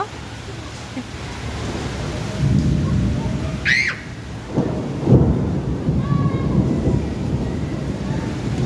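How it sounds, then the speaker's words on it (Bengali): A strong storm with gusting wind and steady rain, broad rushing noise throughout with a couple of heavier bursts and a brief bird squawk partway through. "দেখছো যে কি পরিমাণ বাতাস বাতাসের সাথে বৃষ্টি"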